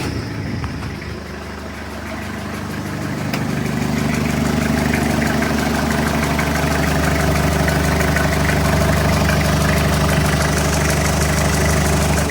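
A Toyota Hilux LN167 diesel engine, running without a fan shroud, cranks and fires after a quiet glow-plug moment, then settles into a loud, steady, close idle with a low rumbling vibration.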